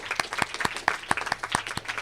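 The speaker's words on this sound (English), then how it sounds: "One more quick round of applause just for all the students and parents as well" Applause for students and parents at a school Student of the Semester ceremony: a brief round of clapping from an audience, sharp claps bunched in a loose, steady patter lasting about two seconds.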